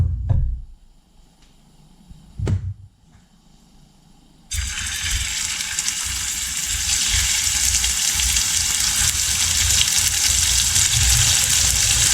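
Meat dropped into hot caramelized sugar for a sweet-and-sour dish bursts into a loud, steady sizzle after a couple of faint knocks, the frying hiss holding strong and continuous to the end with no talk.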